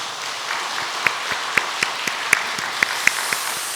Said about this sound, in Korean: 우리 큰 박수로 그들 격려 한번 하겠습니다.